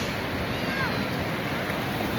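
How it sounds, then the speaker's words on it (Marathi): Surf rolling in at Guhagar Beach on the Konkan coast, a steady, loud wash of breaking waves mixed with wind noise that runs unbroken throughout. "We are on the beach. Guhagar Beach."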